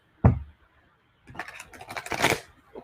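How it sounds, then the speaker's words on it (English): Tarot cards being shuffled close by: a single sharp tap, a short pause, then a quick riffling flutter of cards lasting about a second. "Let's shuffle and clear for our Cancer friends."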